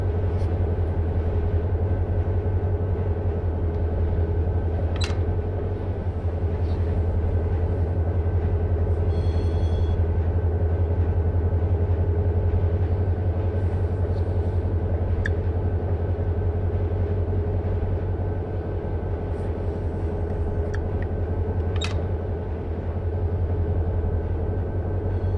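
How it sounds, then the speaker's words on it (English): Freight train rolling past near Barstow in the Run8 train simulator, a steady loud low rumble of wheels and cars with occasional sharp clanks and squeals, continuous throughout. "Train passing by."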